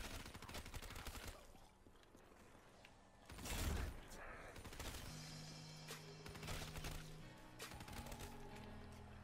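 Dingo light machine gun firing in Call of Duty Zombie Chronicles, a dense burst of rapid automatic gunfire mixed with game sound effects and music, loud and continuous throughout, with a heavier blast around the middle.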